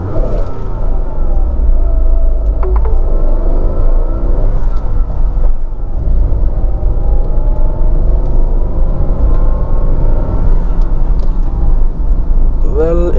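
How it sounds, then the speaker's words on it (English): A Tata Altroz i-Turbo petrol hatchback with a 110-horsepower turbo engine launches and pulls hard, its loud, steady engine drone rising in pitch as it accelerates, with a voice speaking over it. "Launching this vehicle."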